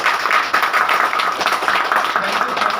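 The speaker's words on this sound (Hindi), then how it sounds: "ताली होनी चाहिए।" Audience in a hotel function room clapping hard and steadily for a speaker, a dense, continuous burst of applause lasting a few seconds.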